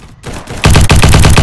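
Rapid, loud bursts of automatic gunfire in the shooter game Bad Business, a fast steady stream of close shots that starts abruptly after a brief quieter moment, with no talking.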